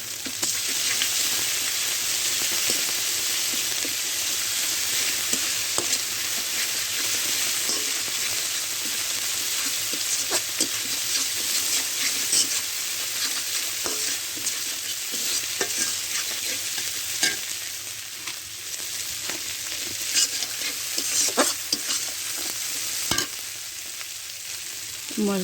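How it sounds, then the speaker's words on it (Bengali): Ground spice paste fries in hot oil in a pan for a fish curry, giving a continuous close sizzle broken by scraping stirs, with no talking. "মশলাটা ভাজা হয়ে গেছে"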